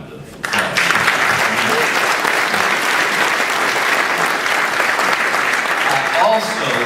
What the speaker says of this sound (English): So you owe him a huge round of applause.